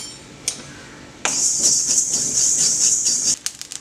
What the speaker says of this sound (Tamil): கடுகு பொரிய ஆரம்பிக்கும் அமர்த்திடலாம்.